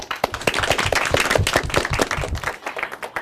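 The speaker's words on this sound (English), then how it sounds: "we want to give yourselves a big round of applause for a job well done" Audience applause at an elementary school derby match, a dense, steady burst of many hands clapping close by that holds for about three seconds before thinning slightly at the end.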